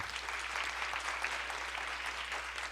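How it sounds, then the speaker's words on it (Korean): Steady sustained clapping from a congregation welcoming new members at a Sunday church service, a dense, even wash of applause lasting throughout. "우리 박수로 한번 할까요?"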